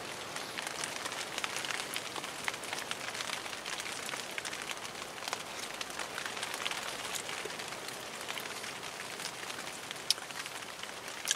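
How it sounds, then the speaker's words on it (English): Steady, dense rain patters on a tarp shelter at an outdoor camp, a continuous close hiss of drops with occasional louder taps and no voices. "you can't beat the sound of the rain on your tarp"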